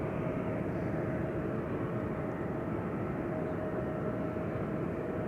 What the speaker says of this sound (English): KM Malta up next, flight 395, A320neo, destination Malta.